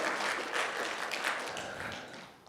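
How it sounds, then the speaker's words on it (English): Church congregation clapping during worship, a soft, distant wash of many hands, fairly even and fading toward the end. "this is the moment where you praise God and clap and get a little excited."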